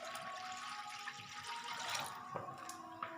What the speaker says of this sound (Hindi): कढ़ाई के अंदर हस्बे ज़रूरत पानी लेंगे।